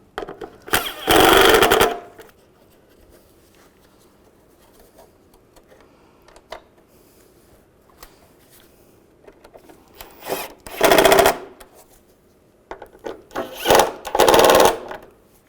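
Bolts snugged down by hand on the A/C condenser of a 1998-2010 Volkswagen Beetle during repair: three short bursts of rapid ratcheting or grinding, one early and two near the end, separated by long quiet gaps.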